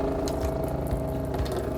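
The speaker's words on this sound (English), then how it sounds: "now that we've bypassed the hot water tank, we're going to turn on the water pump" An RV water pump runs steadily while it pressurizes the water lines for sanitizing, a continuous close motor hum with sloshing water and no talk.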